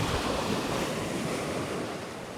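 Surf from Cook Inlet washing onto a beach in Anchorage, Alaska, a steady broad roar of breaking waves with wind buffeting the microphone, loud and continuous throughout with no talking.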